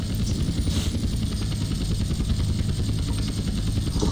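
A helicopter in the video game MTA DayZ lifts off, its rotor beating in a steady, loud, low thudding drone that fills the whole stretch without pause.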